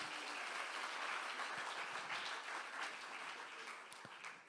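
A church congregation at a Sunday summer service applauds its young people, sustained dense clapping throughout that tapers slightly near the end.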